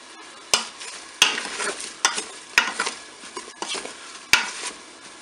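Paprika-seasoned, salted duck breast stirred in a Cookeo multicooker pot, with sharp utensil knocks against the pot at irregular intervals over a steady close sizzle.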